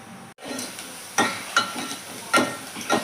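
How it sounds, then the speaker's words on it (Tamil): Onion, garlic and curry leaves sautéing in a pan for poricha kuzhambu, a soft steady sizzle broken by a few distinct scraping stirs of a spoon against the pan. "இப்போ வெங்காயம், பூண்டு, அப்புறம் கருவேப்பிலை இதெல்லாம் நல்லா செமி ப்ரௌன் அளவுக்கு வதங்கிடணும்"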